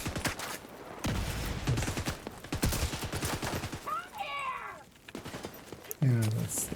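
Video game gunfire, sharp rapid volleys and separate single shots in repeated bursts, loud and near, with people talking over and between the shooting.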